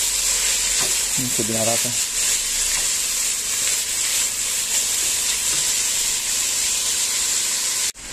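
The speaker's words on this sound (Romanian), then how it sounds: "Călim și puțin ardeiul." Bell pepper sautéing in a pot, a steady bright sizzle and hiss of frying that runs throughout, with a short spoken remark briefly over it early on.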